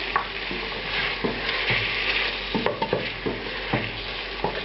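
Tonkatsu sauce with rice wine vinegar simmers in a pan, a continuous soft sizzle under repeated scraping strokes of a spoon stirring it, close and without speech.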